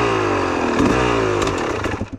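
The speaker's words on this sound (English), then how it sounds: "You gotta rev it up more, bro." Dirt bike engine revving out on trails, a loud close buzzing drone that swells and wavers with throttle changes over a couple of seconds, no speech.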